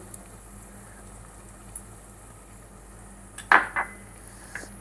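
Chili powder and salt being stirred into a bitter gourd curry in a pan: faint simmering in the background, then a couple of quick spoon scrapes and clanks against the pan near the end.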